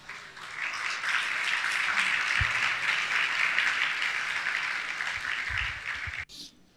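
A church congregation applauds in a dense, steady wash of clapping that holds for about six seconds, then cuts off abruptly near the end.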